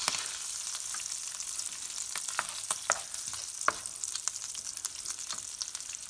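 Pork carnitas frying in a big skillet: a continuous bright sizzle with scattered pops and crackles and occasional utensil scrapes, fairly quiet and close, with no voices.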